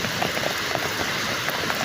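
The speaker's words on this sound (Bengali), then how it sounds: "দেখেন 2024 সালে যে বৃষ্টি হচ্ছে না, সেই বৃষ্টি" Rain falls steadily with a dense, even patter and hiss, close and fairly loud, with no voices over it.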